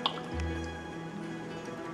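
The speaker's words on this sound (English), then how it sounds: "We're going to put 2 tablespoons of lemon juice right on top." Lemon juice poured from a tablespoon onto packed tomatoes in glass canning jars, a soft close trickle and drip over a steady low kitchen background hum.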